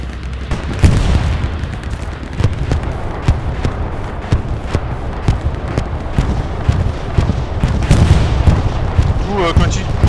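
Artillery bombardment in the Hell Let Loose video game, a dense run of booms and gunfire blasts that goes on steadily through the whole stretch, with players talking over it.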